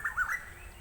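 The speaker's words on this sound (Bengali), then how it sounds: "দেখুন কোকিলের ডাক" An Asian koel calls during monsoon weather, giving a few short, bright, rising notes in quick succession that stand out faintly over quiet outdoor background noise.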